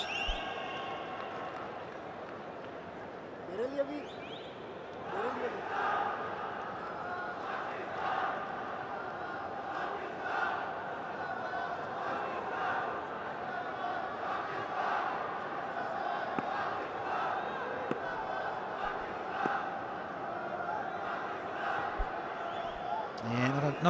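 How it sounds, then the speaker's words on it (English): A modest cricket stadium crowd at a PSL match between Lahore Qalandars and Karachi Kings, a broad, distant roar of cheering and shouts swelling and growing more vocal over a long stretch, beneath occasional commentary voices. "not a big crowd, but it's certainly getting a little bit more vocal now"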